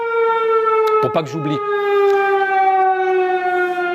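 A loud, steady alarm siren with a sustained tone that slides slowly down in pitch, with a short spoken phrase over it partway through.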